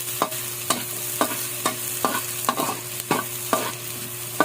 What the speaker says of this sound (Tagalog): Huwag mo tayo masunog yung sibuyas.